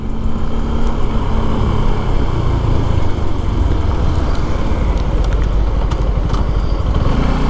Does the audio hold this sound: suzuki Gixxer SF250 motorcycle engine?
yes